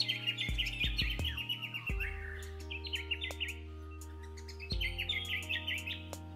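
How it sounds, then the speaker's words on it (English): Scattered bird chirps and tweets from an ambience event in FMOD Studio, layered over steady low synthetic drones; bright calls arrive in clusters, clear and moderately loud, with no talking. "we'll drag in these bird sounds under ambience, birds"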